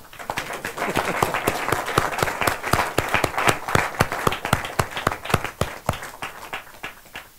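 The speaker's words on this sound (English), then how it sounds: "Why not a big round of applause for us?" Sustained applause from a crowd in a hall at an anniversary celebration, many hands clapping quickly and steadily, loud and close throughout.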